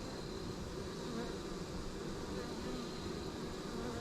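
Honeybees buzz steadily around a hive entrance, a dense, continuous drone of many insects at close range with no pauses.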